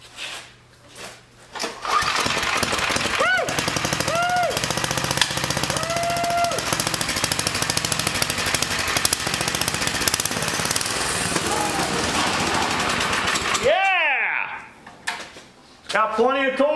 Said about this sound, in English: So let's fire it up and see what it'll do.